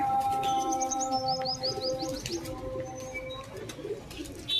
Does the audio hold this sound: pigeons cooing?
yes